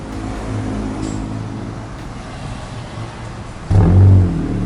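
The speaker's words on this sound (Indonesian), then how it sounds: "ini knalpotnya saat baru nyala teman-teman." A car engine, just started, rumbles at idle with a deep, steady exhaust note, then briefly swells louder in a short rev near the end.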